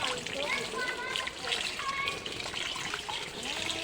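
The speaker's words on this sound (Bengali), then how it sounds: "টাইম কলে জল এসে গেছে" Water gushes from a municipal timed street tap, collected to wash coriander leaves; a steady close splashing and trickling runs throughout, with voices over it.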